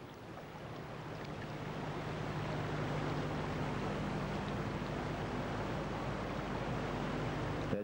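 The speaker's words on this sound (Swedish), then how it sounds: "Dette er hovedelva, som renner altså gjennom Litlavatnet, Fetavatnet, Høylaugvatnet og ut ved Frettet i Stordalsvatnet." The main river near the Feto power station runs high with spring water at 400-500 metres altitude, making a continuous, even rushing roar with no talk.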